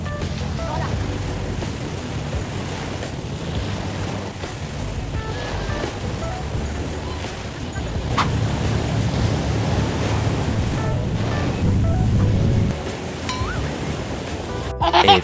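Sea waves wash onto a beach in Zambales, Philippines, as a continuous, loud surf roar with rising swells and wind buffeting the microphone.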